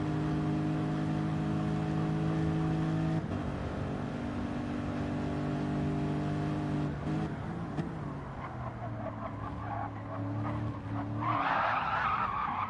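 Race car tyres skid and squeal through a chicane at Monza in a racing video game, with a steady engine drone under a long, loud screech that shifts pitch and builds into harsher noise near the end.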